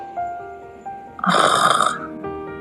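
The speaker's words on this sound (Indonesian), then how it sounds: "Ngorok gitu suaranya." A single loud, close snore-like rasping burst of about three-quarters of a second stands out against quiet background hum.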